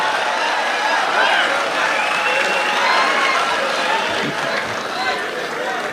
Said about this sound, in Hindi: एक बार जोरदार तालियों से बुलाया जाए शकील आजमी साहब को